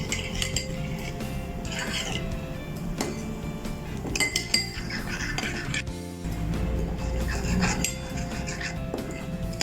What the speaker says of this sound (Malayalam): ഇതെല്ലാം കൂടെ നല്ലതായിട്ടൊന്ന് മിക്സ് ചെയ്യാം.